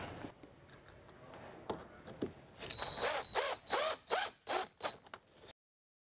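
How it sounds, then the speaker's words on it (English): Bolts being screwed and tightened into an attachment block on a 360 Yield Saver chain, a series of close, quiet ratcheting clicks that speed up into rhythmic bursts before stopping, no voices. "Make sure when you're screwing these in, you do not over tighten them because you can strip this bolt out."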